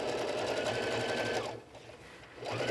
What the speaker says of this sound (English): I'm top stitching about 1/8 of an inch away from the seam here